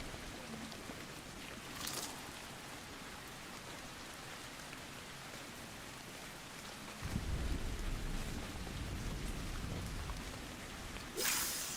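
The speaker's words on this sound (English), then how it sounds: "Something vaguely comforting about the distant thunder noise in this game." Steady rain hiss with low rumbles of distant thunder in the video game Loftia, a continuous wash that swells louder partway through, with no voices.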